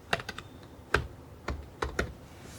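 Sparse, distinct clicks on a computer keyboard while typing JavaScript code for a nested array. The keystrokes are close and crisp, separated by brief pauses, and no one speaks.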